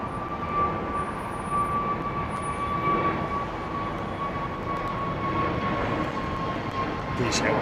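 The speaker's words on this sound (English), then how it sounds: "British Airways 737-200." A British Airways Boeing 737-200 departs Heathrow with a steady, loud, continuous jet roar and a sustained engine whine that holds through the whole stretch, broad and unbroken with no pauses.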